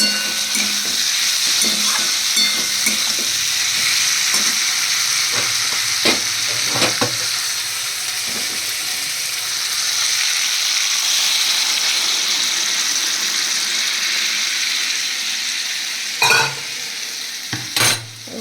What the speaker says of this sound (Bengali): এবার এই জলটাকে আমি এর মধ্যে দিয়ে দেবো